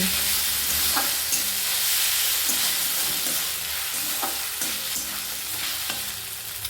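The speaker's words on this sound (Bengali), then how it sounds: "আদা রসুন বাটা দিয়ে দেওয়ার পর আবারও ভালো করে নাড়াচাড়া করে নেব" Ginger garlic paste and pumpkin fry in a pan with a continuous loud sizzle, broken by regular scraping strokes of a spoon as the mix is stirred, with no talking.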